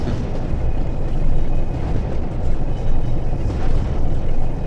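A Class 47 diesel locomotive in a train simulator game drones in a loud, constant low rumble with slight surges, steady throughout with no voices.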